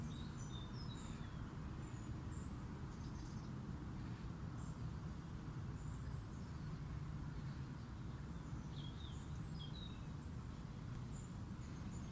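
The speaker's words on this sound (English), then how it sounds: "just relax in and start to take in the sounds of the birds singing" Birds chirp and sing in scattered high calls over a dense, constant rumble of wind and distant traffic beside a lake in October, the song faint against the background.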